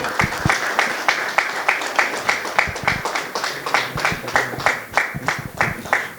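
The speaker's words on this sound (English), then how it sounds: "Warm applause to them." A small group at a leadership panel event claps in a thin, uneven rhythm, individual hand claps standing out clearly, with a faint voice in the background.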